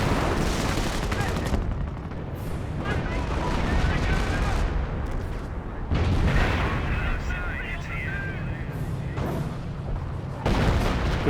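Artillery and gunfire from a Company of Heroes battle involving 25-pounder field guns, heard as dense, continuous rumbling booms and crackling bursts. Loud throughout, with commentary voices talking over the fighting.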